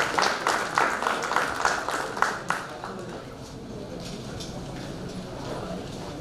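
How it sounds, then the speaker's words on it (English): A conference audience gives a round of applause for panelists taking the dais at a tax event, rhythmic clapping that fades after a couple of seconds into quiet room tone. "Can we have a huge round of applause for our panelists for the next session?"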